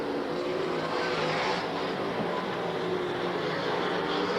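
Super sedan race cars racing at Archerfield Speedway during the 1998–1999 Cannonball Cup season, heard as a continuous roar of engines that holds at a steady level with no clear passes.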